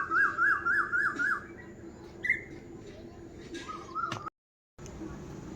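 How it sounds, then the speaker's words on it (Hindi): An Asian koel calls from trees in a village in Uttarakhand, repeating a clear, rising whistled note several times in a quick series and then again after a pause, fairly faint over rustic background noise. "पता नहीं कहाँ बज रही है ये कोयल, पेड़ों में है शायद।"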